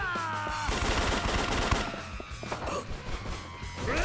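An enemy's shotgun blasts in Yakuza 3, loud repeated booming shots clustered in quick bursts over a steady game soundtrack.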